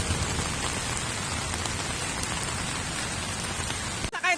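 Steady rain pours down on a surface, a dense, even hiss throughout that ends with a brief abrupt noise.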